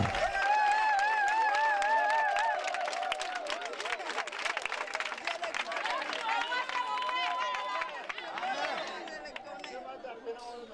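A crowd at an open-air evangelism campaign gathering acclaims with cheering, high ululating voices, whistles and scattered clapping, a lively mass of sound that eases toward the end.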